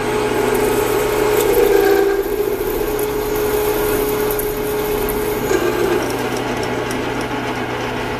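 A milling machine hums and grinds steadily as it squares the bottom of a hole in metal, a loud continuous whine with a brief rise in pitch partway through, no talking.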